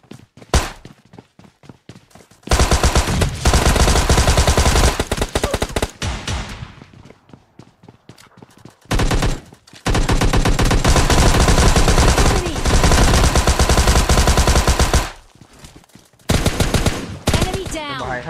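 Loud, close bursts of automatic gunfire ring out in a shooting video game, several sustained volleys separated by brief quiet gaps.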